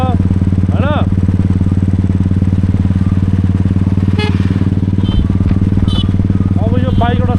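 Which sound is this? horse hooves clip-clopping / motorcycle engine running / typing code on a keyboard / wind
motorcycle engine running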